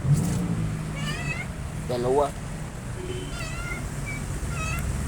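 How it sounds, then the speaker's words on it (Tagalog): Several thin, high mews from newborn kittens come in short bursts, some overlapping, close by, while a person speaks briefly at the start. "Kaya pala naririnig ko, nagmamiyaw-miyaw."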